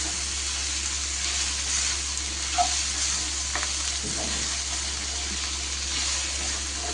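Pan-fried okra drops into a sizzling onion and tomato masala, a soft, even hiss over a low steady hum with a few faint clinks and stirs.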